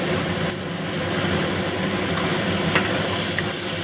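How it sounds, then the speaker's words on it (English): Pork loin strips stir-frying with a salt and pepper seasoning, a steady close sizzle with scraping stir noises running throughout, no talk. "Then we're going to add the pork strips back. And we'll sprinkle the salt and pepper seasoning over it."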